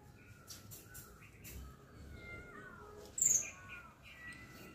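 A cat sitting among tall leafy greens in a garden plot meows once, briefly and fairly close, against a very quiet outdoor background with faint bird chirps.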